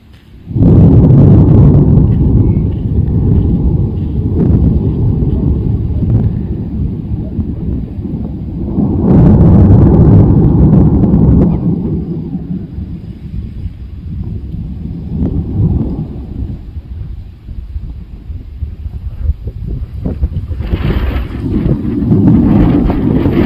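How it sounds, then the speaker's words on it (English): Strong wind near the La Palma volcano, roaring and buffeting against the microphone in loud, sustained gusts with deep rumbling that swells and eases. "Strong wind today."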